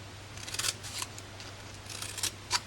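Scissors snip through paper while a card box is made in a stamping craft session, with a few quick close cuts spread across a quiet room with low background hum.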